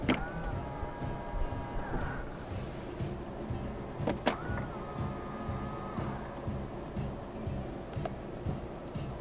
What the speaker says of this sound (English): To fold the side mirrors in from the inside, press the L and R buttons together at the same time.